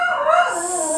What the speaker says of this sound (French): Ça, c'est mon chien qui jappe.